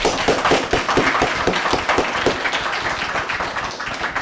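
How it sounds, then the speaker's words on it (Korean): A church congregation at a Palm Sunday worship service claps loudly together in a quick, fairly regular rhythm of sharp hand claps. "우리 젊은 분들, 우리 나이 잡신 어른분들한테 한번 큰 박수를 한번 쳐봅시다."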